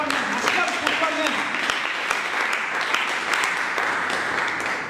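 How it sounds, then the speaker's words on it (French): A church congregation applauds at a revival service in Gatineau, a steady wash of many clapping hands with a preacher's voice speaking loudly over it. "Acclame pour toi-même, acclame pour toi-même, acclame pour toi-même"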